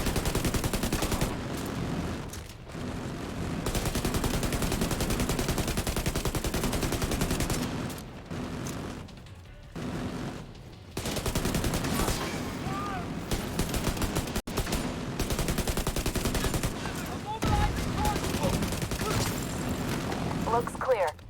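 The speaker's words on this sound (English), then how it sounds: "This gun's recoil is really weird." Sustained gunfire in The Division 2, dense rapid bursts from a weapon with heavy recoil, loud and close, breaking off briefly between strings of shots.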